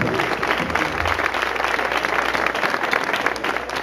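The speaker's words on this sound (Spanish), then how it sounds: "fue Antonio Mora, así que pedimos un aplauso para él." Audience applause, dense and continuous clapping from a crowd, loud and steady for a few seconds with no voices standing out.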